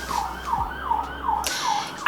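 An emergency vehicle siren passes outside a house, a loud wailing tone rising and falling in quick regular sweeps, close by, followed by a sharp noise at the end.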